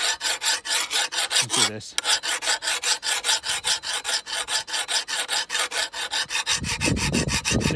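A hand file pushed in long, even strokes across the blade edge of a garden hoe while sharpening it, with rhythmic rasping passes close by and a brief spoken word near the start.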